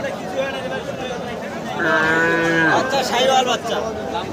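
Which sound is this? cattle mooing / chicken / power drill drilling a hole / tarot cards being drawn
cattle mooing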